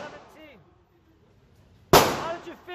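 A single loud, sharp Glock pistol shot at a shooting range cracks out near the end, preceded by quiet talk and followed by a ringing decay as voices continue.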